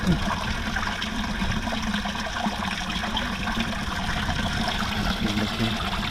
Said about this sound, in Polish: I proszę, wypływa woda.